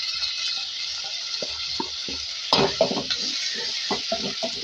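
Three medium chopped tomatoes fry in a pan for moong masoor daal, with a steady close sizzle under repeated stirring scrapes and knocks of a utensil against the pan.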